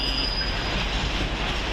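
An East Midlands Railway class 158 diesel unit moves through Peterborough station, a steady, loud rumble of rolling wheels with a faint high squeal running above it.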